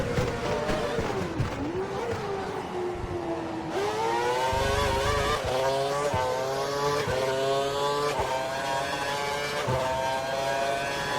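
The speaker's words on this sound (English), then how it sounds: "Alonso started well, holding the lead into turn 1, with Vettel and Schumacher holding station behind" Formula 1 cars roaring off the start of the 2012 German Grand Prix, multiple high-pitched engines revving and shifting up in layered, overlapping whines, loud and sustained with gear changes stepping the pitch.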